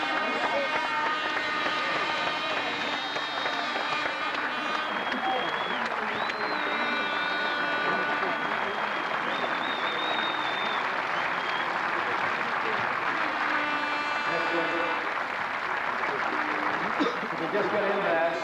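A theatre audience applauds at a 1994 benefit performance honouring someone, a dense sustained wash of clapping that fills the room, with whistled or sung tones and voices mixed in.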